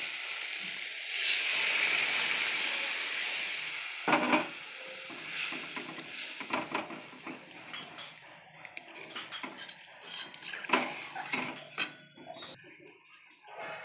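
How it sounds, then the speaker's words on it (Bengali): Water poured onto fried mustard and onion spices in a pan, first a loud rushing hiss that gradually dies down, then scattered scraping and stirring clatter. "এবার জল দিয়ে দেবো।"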